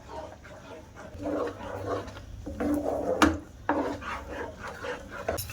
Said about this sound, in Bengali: দিয়ে ভালো করে নাড়তে থাকবো যেন জমে না যায়